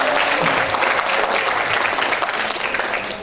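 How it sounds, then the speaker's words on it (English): An audience at a Fonterra university general lecture bursts into steady, dense clapping that fills the room and tapers slightly toward the end, with no talk over it. "Please give a applause to Mr. Asyut."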